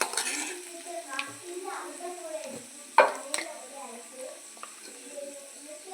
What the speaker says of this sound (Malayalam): മഞ്ഞൾപ്പൊടി നന്നായിട്ട് മിക്സ് ചെയ്യാം